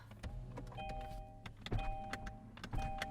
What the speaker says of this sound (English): at least roll down some windows so I don't suffocate in here